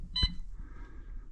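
A short electronic beep sounds once from a hotel room safe keypad after the lock button is pressed, in a room at Harrahs Lake Tahoe, followed by a faint quiet room hum.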